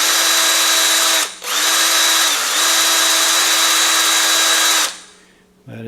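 Close, loud whine of a power drill spinning a bit into a vintage Ritepoint lighter's flint striking mechanism, with a brief stall and restart, a slight pitch dip mid-run, then winding down to silence.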